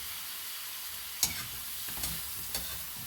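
Chicken feet adobo fries in a pan with a steady sizzle, while a spoon scrapes and stirs through it in three distinct strokes.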